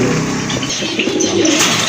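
Racer pigeons coo softly in a continuous low, throaty murmur, close by and alone without speech.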